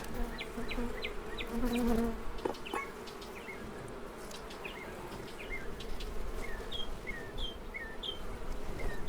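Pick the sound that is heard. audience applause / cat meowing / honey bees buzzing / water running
honey bees buzzing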